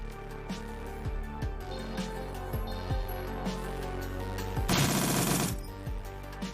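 Rapid automatic gunfire from the video game Shadowrun Dragonfall, a steady run of close, regular shots over continuous game music, ending in a louder, dense burst of firing.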